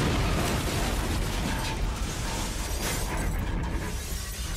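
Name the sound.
bomb explosion in World Trade Center garage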